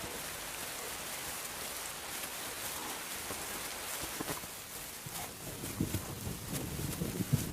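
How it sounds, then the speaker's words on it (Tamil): Heavy rain pours across open water-filled plains where lions trail buffalo, a dense, steady hiss of falling drops with scattered closer splashes growing more pronounced toward the end, no voices. "இங்க கிட்டத்தட்ட தினமும் பலத்த மழை பெஞ்சுக்கிட்டு தான் இருக்கும்"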